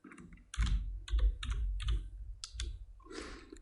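Typing on a computer keyboard at close range: bursts of quick clicking keystrokes in short irregular clusters with small pauses, fairly clear and alone without speech.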